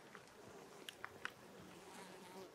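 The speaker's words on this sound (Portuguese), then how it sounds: "Olha a quantidade de abelhas em busca do pólen e do néctar" Bees foraging on flowering mallow, a faint, soft buzz drifting near and far, with a few small ticks and no talk over it.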